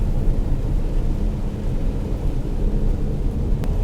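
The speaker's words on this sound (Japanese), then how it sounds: "まあ残念ながら今日は雨降ってましてね" Steady rain drumming on a car while driving a narrow Japanese national road in November, heard from inside as a dense, even broadband rush with low road rumble throughout, no talking.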